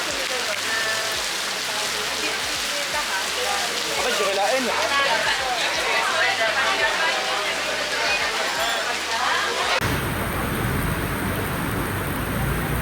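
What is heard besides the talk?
rain falling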